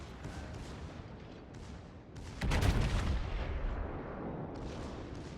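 Secondary guns on the battleship Bismarck firing in the naval combat game World of Warships, a burst of loud booming shots rising out of a steady background of gunfire and rumble.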